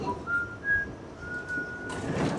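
Someone whistles a slow, thin melody of a few long held notes, fairly faint over a background rumble, with a brief clatter near the end.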